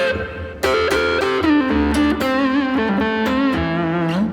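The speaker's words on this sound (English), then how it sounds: "It's almost like the sound of like a cocked wah-wah pedal, or this kind of singing, resonant kind of sound." Gibson electric guitar with the tone knob rolled fully off for the woman tone, a singing, vocal-like lead line with bends and vibrato, mildly overdriven, loud and close with no talking.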